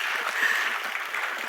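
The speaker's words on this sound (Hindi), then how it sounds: "ठोको ताली." Brief burst of audience applause at a medical alumni conference, a dense wash of clapping heard alone for a moment.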